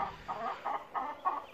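A hen, an İspenç breed of chicken, gives a run of short clucking calls in uneven bursts, fairly close and alone with no talk.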